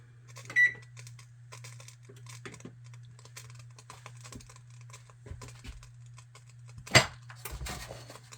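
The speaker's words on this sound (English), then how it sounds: "turn your oven onto 350" A kitchen oven's control panel gives a single short, clear electronic beep as it is set to 350 degrees, followed by quiet kitchen clatter and a brief knock later on.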